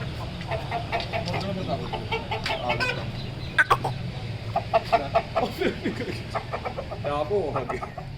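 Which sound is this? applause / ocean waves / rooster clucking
rooster clucking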